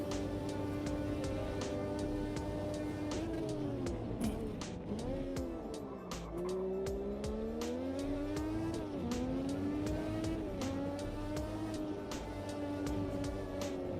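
A Ferrari race car in Automobilista 2 screams through the gears, its engine note climbing and dropping with shifts and braking over a steady, loud drone, with no talk.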